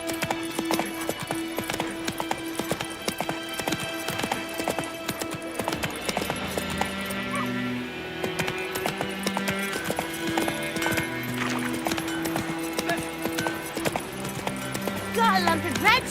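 Roach the horse gallops in The Witcher 3, a steady clip-clop of hooves running under continuous game music, with voices speaking over it.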